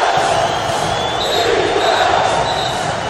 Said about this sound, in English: Now this crowd is coming to life.